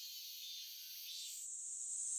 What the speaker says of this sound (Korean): 장마가 끝나면 색이 짙어진 매미도 본격적으로 활동을 개시합니다.